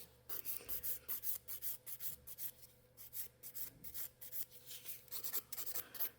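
A nail file rasping across gel nails during a rebalance, rhythmic close scraping strokes in steady repeated bursts, fairly loud with no talking.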